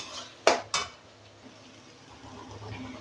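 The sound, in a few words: stirring and mixing chicken curry masala in a pot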